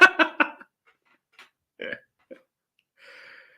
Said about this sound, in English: I am laughing at it and burping